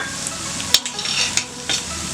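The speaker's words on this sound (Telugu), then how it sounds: "ఆనియన్ మంచిగా ఫ్రై అయ్యాక ఒక 1/2 టేబుల్ స్పూన్ తగినంత అల్లం వెల్లుల్లి పేస్ట్" Chopped onion fries with ginger-garlic paste in a pan for palak paneer, a steady close sizzle broken by a few sharp scrapes and clinks of a spoon stirring.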